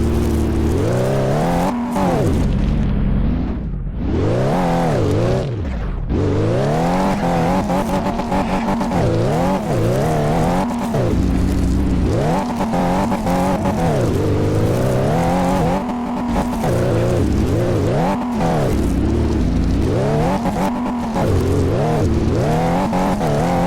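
Pickup truck engine revving and accelerating in Car Mechanic Simulator 2018, a loud continuous drone with rising and falling pitch sweeps as the engine climbs through the revs, close and steady, no talking.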